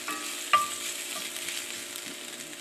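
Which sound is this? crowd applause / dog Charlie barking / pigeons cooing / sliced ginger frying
sliced ginger frying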